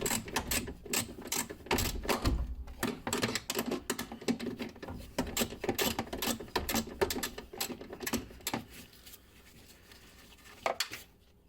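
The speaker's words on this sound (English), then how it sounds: "And then undo the second bolt." Ratchet undoing a bolt in the engine bay of a Pontiac Fiero, with a rapid run of close mechanical clicks and rattles that continues for most of the span before thinning out.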